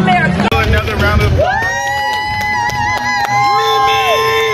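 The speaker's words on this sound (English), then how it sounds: "Another round of applause." Audience applause and cheering at a Black culture film festival awards event, a loud crowd with whoops and shouts, along with music and voices mixed in.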